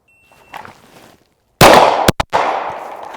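Rapid handgun shots fired with a red dot-equipped pistol by a shooter in full tactical gear, a few loud close cracks in quick succession after a short quiet lead-in.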